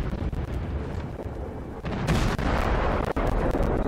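Naval gun salvos boom in a warship video game, a dense run of loud, overlapping blasts with sharp cracks punctuating a continuous roar.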